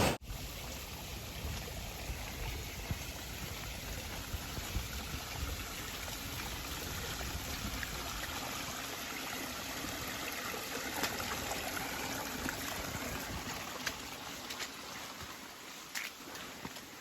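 A creek along the Appalachian Trail runs in a steady, even rush and trickle, quiet and continuous with no voices over it.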